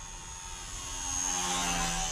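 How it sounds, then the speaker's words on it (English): A HobbyZone Super Cub DSM three-channel RC airplane with a brushed electric motor produces a steady, whining buzz that swells slightly louder partway through, heard alone. "I love the brushed motor and the way that it sounds."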